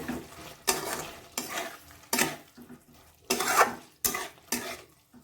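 A spoon stirring cauliflower roast with ghee and garam masala in a pan, in repeated scraping strokes that start and stop in an irregular rhythm, close and moderately loud.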